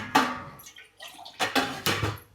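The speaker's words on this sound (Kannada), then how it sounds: "ಒಂತೆ ನೀರು ಪಾಡ್ಗ" Water is splashed a little at a time into onion masala roasting in a pan for a function-style egg fry, giving three short bursts of wet sizzle and splash, close and moderately loud, with quieter gaps between them.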